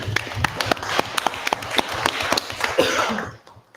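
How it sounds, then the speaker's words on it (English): Applause at a school board meeting after a motion passes, scattered sparse clapping from a small room with a cough or two, fading out at the end. "clap it up, please"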